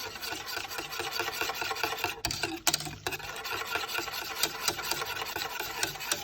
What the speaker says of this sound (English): I'm going to whisk it too to make sure that the gelatin, the pectin, doesn't clump up